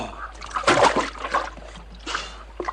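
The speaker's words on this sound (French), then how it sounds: "Et il fait rien que de m'éclabousser." Water splashing in a scene from a French war comedy film, a few quick splashy bursts over about three seconds, close and moderately loud.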